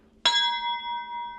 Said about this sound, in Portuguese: Ai, meu sininho, que amor, Carol.